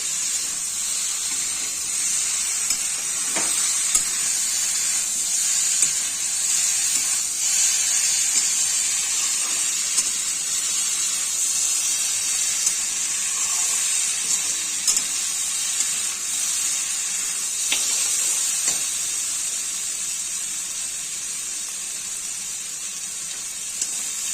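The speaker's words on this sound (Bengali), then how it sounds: "এবার সাথে বড়াগুলো ছেড়ে দিচ্ছি" Pumpkin, bottle gourd, potato and chana dal fritters fry in oil in a wok with a constant dense hiss and sizzle, steady throughout, no voices.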